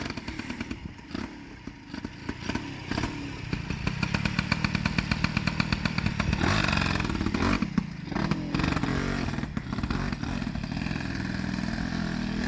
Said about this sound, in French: Elle démarre la pilette!